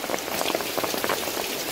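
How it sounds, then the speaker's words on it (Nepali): Heavy monsoon rain in Korea, a short burst of dense bubbling patter as drops splash close by, loud and unbroken. "बर्खा लाग्यो"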